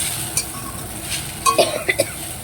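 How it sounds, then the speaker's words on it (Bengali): Chow mein noodles with vegetables being stirred in a pan, giving soft scraping and a faint sizzle, with a few sharper clinks of the utensil against the pan near the end. "এখন নাড়াচাড়া করবে নাড়া নাড়াবে যে নাড়ানোর একটা স্টাইলটা থাকবে আলাদা"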